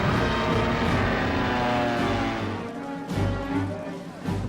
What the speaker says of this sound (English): the Stukas and medium bombers proved devastatingly effective